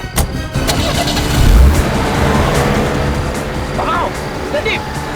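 A car engine fires up with a sharp start, then revs and pulls away fast with a mid-pitched drone that holds under urgent, hurried talk.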